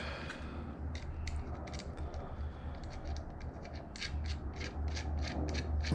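A nut spun by hand onto the threaded bolt of a welder ground clamp, a light metallic ratcheting scrape repeating in quick bursts, close and fairly faint over a steady low hum.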